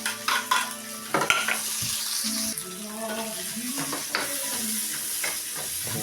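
Garlic and onion sizzle and fry in a pan for kaldereta, with a spoon stirring and scraping against the metal in irregular bursts over a continuous hiss, close up.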